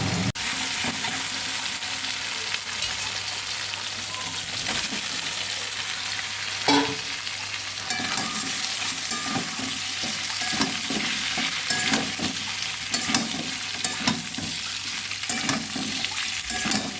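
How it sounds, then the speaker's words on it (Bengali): Ginger, onion, garlic and chili paste frying in hot oil in a home kitchen, a steady close sizzle with scraping stirs and occasional clatter running throughout. "ওই তেলের মধ্যে আদা পেঁয়াজ রসুন পেস্টটাকে দিয়ে দেবো, একসঙ্গে লঙ্কা পেস্ট করে নিয়েছি, তো দিয়ে ভালো করে কষিয়ে নেব"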